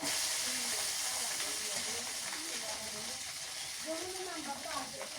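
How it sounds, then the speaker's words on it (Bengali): Onions sizzle and hiss steadily in a hot pan, a continuous crackling frying sound with faint voices in the background. "পেঁয়াজ ভাজা হয়েছে"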